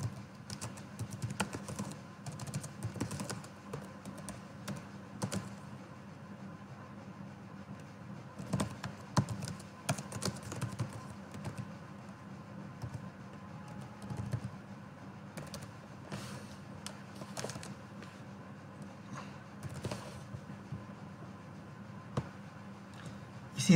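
Someone keys an address into a computer keyboard with fast, steady clicking and short bursts and pauses, close and fairly quiet over a low room hum.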